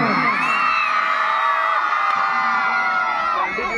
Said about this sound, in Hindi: जोर से हल्ला करके बताओ, एक बार चिल्ला जोर से चिल्लाओ